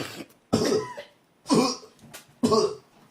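Three separate harsh coughs, evenly spaced about a second apart, close and fairly loud with quiet gaps between.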